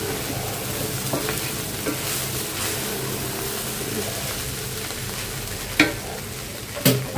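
Fried rice and Chinese vegetables stir-fry in a pan, a continuous low sizzle and hiss with a couple of sharp clanks of a utensil near the end.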